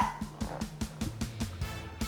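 A dog barks in a steady series of about nine evenly spaced woofs indoors, moderately close and heard alone.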